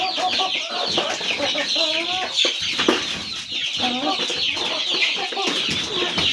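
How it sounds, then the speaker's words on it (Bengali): Broiler chickens cluck and chatter steadily throughout, a busy overlapping flock heard up close with no pauses. "ব্রয়লার মুরগি"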